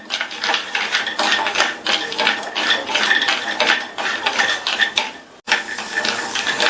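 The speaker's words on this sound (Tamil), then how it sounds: "இதுல 1/2 கப் அளவுக்கு பாதாம் பருப்பை சேர்த்துட்டு மீடியம் ஃப்ளேம்ல வச்சு இந்த பாதாம் பருப்பை 2 நிமிஷத்துக்கு வறுத்துக்கலாம்" Half a cup of almonds roast in ghee over a medium flame, stirred in a pan with a rhythmic, close scraping and clinking of the utensil against metal that continues throughout.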